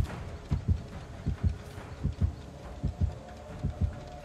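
Heartbeat from the video game Dead by Daylight as the killer draws near: deep, thudding double beats in a steady rhythm, about one pair every three-quarters of a second, loud and alone.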